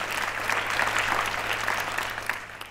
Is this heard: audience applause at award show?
yes